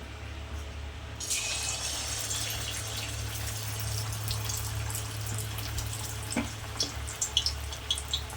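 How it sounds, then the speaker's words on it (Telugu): Chicken leg pieces dropping into hot oil for deep frying, a steady loud sizzling hiss that swells at the start, then a continuous close crackle with a few sharp pops near the end. "ఇప్పుడు ఆయిల్ బాగా హీట్ అయింది కదా, ఇప్పుడు ఒకటి ఫ్రై చేసుకుందాం డీప్ ఫ్రై"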